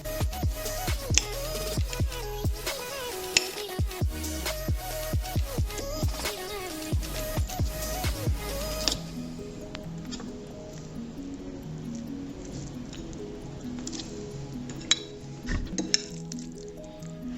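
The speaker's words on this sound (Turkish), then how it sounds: "Bir çatal yardımıyla iyice eziyorum." A fork mashes avocado with salt and pepper in a bowl, giving a run of soft squishing strokes with sharp clinks of metal against the dish, regular at first and then quieter and more scattered.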